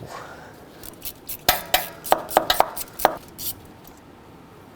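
A wrench loosens the 10mm bolt that holds the ignition coil on a 2009-2013 Honda Fit, giving a handful of sharp, close metallic clicks and clinks in an irregular burst, with no talking.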